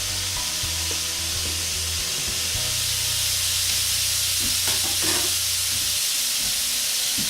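Pineapple slices sizzling on a George Foreman indoor/outdoor grill, a steady bright hiss of frying with a low hum underneath and a few small pops near the middle, constant and moderately loud.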